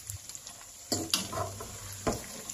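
Pork steak frying and browning in oil in a pan, a soft continuous sizzle with a few louder spits and stirring clatters near the mic, no talking.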